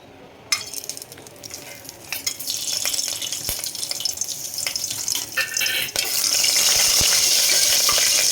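Whole spices, cinnamon, cloves, bay leaf and star anise, drop into hot oil for prawn biryani and fry with a close, crackling sizzle that grows louder and steadier toward the end.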